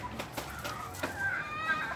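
A Perello rooster gives a few soft, brief clucks close by, with faint high bird calls in the background and no talk.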